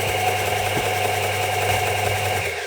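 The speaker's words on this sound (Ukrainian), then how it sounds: "Вмикається верстат натисканням зеленої кнопки." A Procraft BDS380 disc and belt sanding machine runs steadily after being switched on, a loud constant motor hum and whir with no talk over it.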